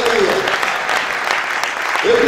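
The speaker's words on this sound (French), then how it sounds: "Applaudissez votre frère." A church congregation claps during a sermon, a continuous round of applause with faint sustained vocal tones rising at the beginning and end.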